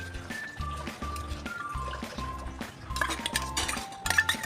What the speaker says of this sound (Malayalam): അതിലേക്ക് നമ്മളിവിടെ വേവിച്ച് വെച്ചിരുന്ന പരിപ്പാണ് ചേർത്ത് കൊടുത്തത്.